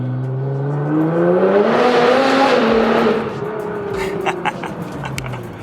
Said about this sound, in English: Rule number 1 in this car, the window is up because it is so crazy loud.